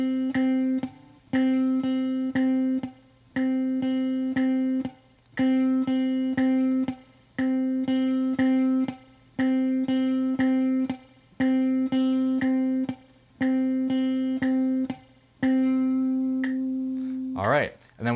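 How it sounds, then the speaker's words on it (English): A metronome clicks at a steady pulse during a guitar rhythm-muting exercise, its ticks running under repeated sustained notes that cut off into short muted gaps in a regular pattern. "Let me get that metronome back on here."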